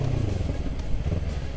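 A starter motorcycle is ridden through city streets, giving a soft, steady low engine rumble with light clatter, fairly quiet and distant, with no talk.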